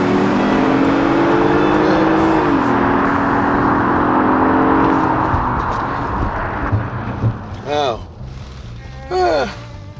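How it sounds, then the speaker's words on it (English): A 2018 Acura TLX A-Spec in Sports Plus mode with paddle-shifted first gear revs loudly and then pulls hard under acceleration, with a steady, rising engine drone. Brief voices chime in near the end. "Let it rev, and let her back."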